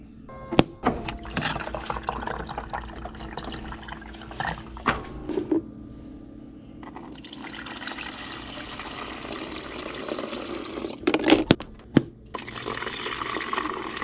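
A countertop ice maker is switched on and water runs as it fills, a steady wash of flowing water with a few sharp clicks and knocks near the start and end.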